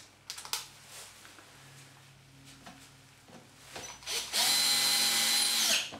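A power drill fitted with a combined drill bit and countersink bores and countersinks a hole in a single pass, a loud close whine lasting under two seconds after some quiet handling clicks and taps.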